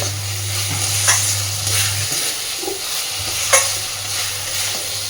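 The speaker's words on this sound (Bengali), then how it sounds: "ডালটা নাড়াচাড়া করতে করতে দেখুন তেল বেরিয়ে এসেছে" Dal being stirred with spices in oil in a pot, a steady frying sizzle with scraping stir strokes near 1 and 3.5 seconds, close and moderately loud, with no talking.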